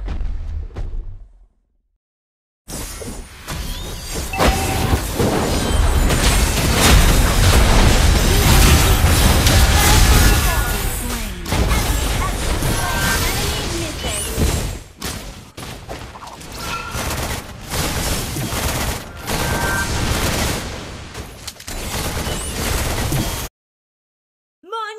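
Mobile Legends battle while attacking the turtle objective: a dense, continuous wash of game effects with booms, bursts and whooshes layered over each other, loud and busy throughout with brief silences at the start and end.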